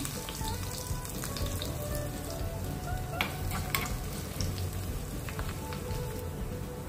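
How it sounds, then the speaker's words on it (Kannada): Mustard seeds splutter and crushed garlic sizzles in hot oil for an okra curry, a steady low frying hiss broken by scattered small pops and crackles, with no talk. "ಸಾಸಿವೆ ಸಿಡಿಯುವಾಗ ನಾನು 5ರಿಂದ 6 ಜಜ್ಜಿದ ಬೆಳ್ಳುಳ್ಳಿ ಹಾಕ್ತಾ ಇದ್ದೇನೆ"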